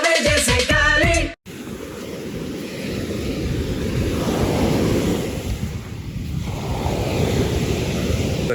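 Surf breaks steadily on a beach near a river mouth at Palomino, with a continuous wash of waves and wind noise that follows a short burst of unrelated sound at the start.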